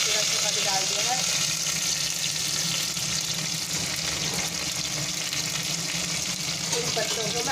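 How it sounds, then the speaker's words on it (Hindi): Cumin seeds sizzle in hot oil for a dal tempering: steady oily sizzling and crackling fills the clip, a close, continuous frying hiss with faint stirring and bubbling underneath. "दाल में छौंका अब गर्म हो गया है, तो इसमें मैं जीरे का बघार डाल देती हूँ"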